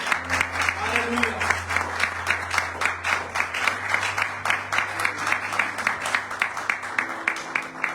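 A church congregation claps loudly and steadily throughout, a dense, continuous wall of applause with faint voices and a low hum underneath.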